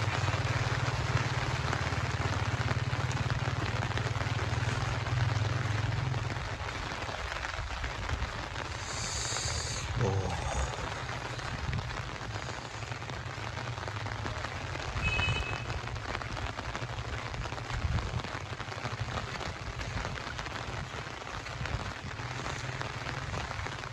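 Rain pours steadily during a heavy storm in Dadyal, Azad Kashmir, a continuous broadband hiss of drops on surfaces, with a low rumbling hum early on and a few brief sharper knocks scattered through.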